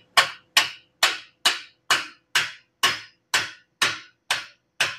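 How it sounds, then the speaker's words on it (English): A small hammer taps the edge of plasma-cut steel plate eleven times in a steady, even rhythm, each strike a sharp, close, bright metallic knock with a quick decay, with no other sound. "just take a small hammer and just tap it on the edge"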